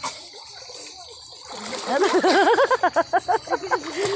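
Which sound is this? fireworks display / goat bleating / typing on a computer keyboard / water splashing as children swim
water splashing as children swim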